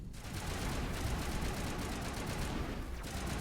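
Sustained automatic weapon fire in the Mass Effect video game, a dense, continuous rattle of rapid shots at steady loudness throughout.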